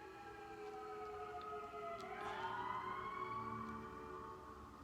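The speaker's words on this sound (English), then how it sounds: "Sirens." A faint wailing siren rises and falls in the distance, steady and continuous with no speech over it.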